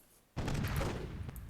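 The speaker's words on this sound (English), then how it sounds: "Are exchanging fire. Both very close." Gunfire in the WWII-themed Myth II Soulblighter video game: after a brief quiet, a dense, close burst of rapid shots erupts and rattles on without pause.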